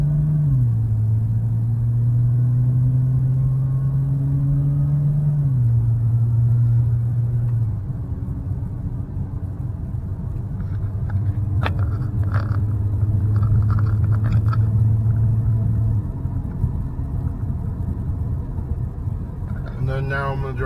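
Exhaust of a BMW 328i E90 with a muffler delete under normal acceleration from inside the car: a steady low drone that rises and steps with gear changes, moderately loud throughout, with occasional brief faint clicks.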